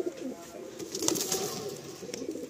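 Madrasi pigeons, a black pair, being released by hand, with soft cooing and rustling of feathers and wings close by over a steady low background.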